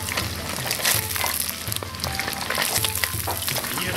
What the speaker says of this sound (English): Don't fry it in a pan like this.